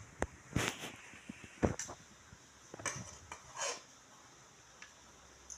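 Cooked tomato rice served from the pot: faint, scattered scrapes and metallic clinks of a spoon against the vessel, close but quiet, with no talking.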